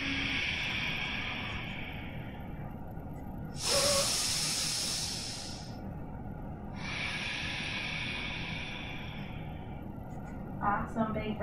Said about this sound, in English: Nice big breaths in. And big breaths out.